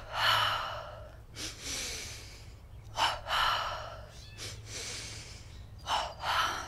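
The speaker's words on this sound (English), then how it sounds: "And back up for double breathing, palms touching." Double breathing exercise from a yoga energization routine: a series of forceful paired inhales and exhales through the nose and mouth, close and breathy, repeating in rhythmic bursts with a soft musical drone underneath.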